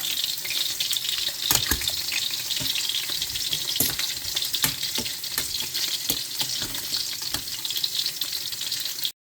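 Pork trotters fry in a pan with a constant crackling sizzle, punctuated by scattered sharp pops and spatters at irregular intervals, close and fairly quiet, with faint stirring and watery hiss underneath.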